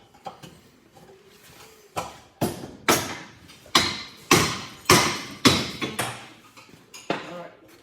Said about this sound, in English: Tap it with a hammer up, maybe on the back side.